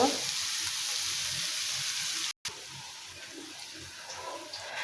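Egg sizzling in a hot pan of oil, a steady bright crackling hiss that carries on without a break apart from one very brief dropout midway, close and moderately loud with no voices.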